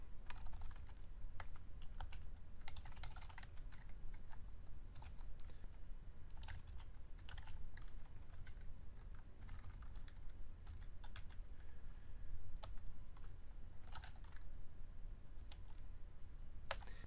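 Computer keyboard tapped while writing PL/SQL code, with faint, uneven clusters of quick key clicks and short pauses over a low steady hum and no voice.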